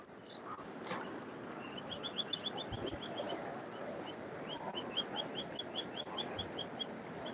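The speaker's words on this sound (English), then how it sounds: "Oh, there's those beautiful birds I was telling you guys about." Small birds near a river trill in rapid repeated chirps, a fairly faint run of high notes over steady flowing water and outdoor background noise during a fishing outing.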